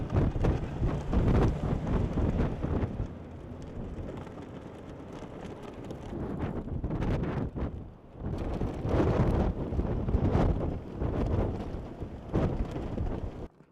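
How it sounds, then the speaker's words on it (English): Heavy wind from a late spring storm in Massachusetts buffets the microphone in loud, continuous roaring gusts that surge and ease, with a brief lull near the middle before strong gusts return. "Heavy winds."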